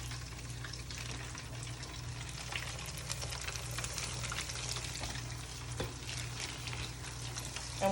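Chicken pieces frying in hot oil for Louisiana honey-butter fried chicken, a steady close crackling sizzle with soft bubbling and occasional louder pops, no talking.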